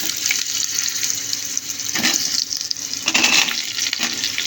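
Potatoes going into oil left from frying onions for aloo dum, a loud, close, bubbling sizzle with spatters and bursts as the pieces settle and get stirred, with no talking.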